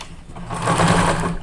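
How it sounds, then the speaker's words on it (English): A sewing machine stitches over the top of a cloth face mask casing, a close, steady motor whir with a rapid needle rhythm that swells slightly over a brief burst. "I'm sewing over the top."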